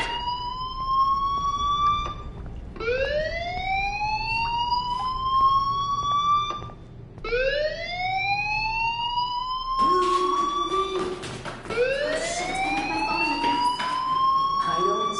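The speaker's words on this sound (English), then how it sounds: "do you hear that fire alarm? That means you should be outside." A fire alarm in the video game Life is Strange sounds as a series of loud, repeating rising siren sweeps, each climbing for several seconds before restarting, with a faint background hum.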